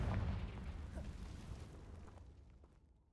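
A Confringo spell blast in the Hogwarts Legacy video game, a single heavy explosive boom that rolls and fades over a few seconds, fairly quiet overall.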